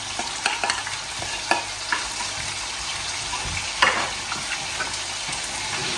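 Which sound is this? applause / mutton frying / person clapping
mutton frying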